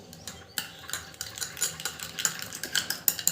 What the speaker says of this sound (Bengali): এবার আমি অ্যালোভেরা জেলটা বন্ধুরা এই ভেজলিংয়ের সাথে মিশিয়ে নেব।